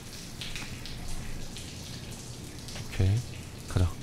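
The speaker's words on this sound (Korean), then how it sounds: "천장에서 소리 나니까 이 물소리에 가려질지도 모르지" Running water in the horror game SOMA trickles and splashes softly and steadily, with a couple of brief louder knocks near the end.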